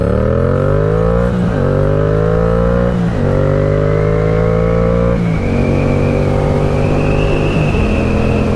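A 75-horsepower motorcycle engine revs loudly and close while riding, rising in pitch through several gears with clear drops at each shift.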